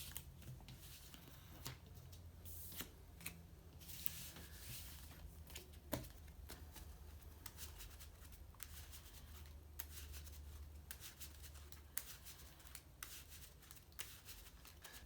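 Yu-Gi-Oh trading card deck (Shaddoll Dinosaur build) being shuffled by hand, a soft continuous riffling and rubbing of cards with small crisp taps, quiet and close with no talking.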